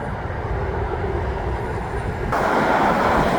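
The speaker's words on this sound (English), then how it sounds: "There's another REM train." A Montreal REM light rail train rumbles past nearby in winter, a steady broad roar that swells louder toward the end, with no voices.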